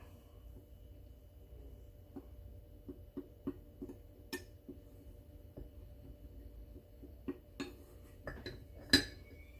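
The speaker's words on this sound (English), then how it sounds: "I am using my knife to scrape the top of the flour, so that way I get a good, perfect amount of 3 cups" A knife scraping across the top of a cup of flour for bread, giving soft light scrapes and small clicks and taps against the cup in a quiet kitchen, with no talking.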